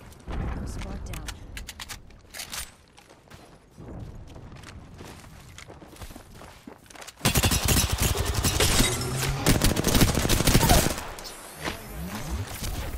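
Video game gunfire heard as scattered sharp shots, then a loud dense volley of rapid fire in the latter half, with a player talking between the shots.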